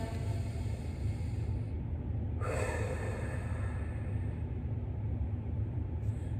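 A person takes a long, steady inhale during a breathing exercise, the airy breath sound continuous and close against a low background rumble, with no talking.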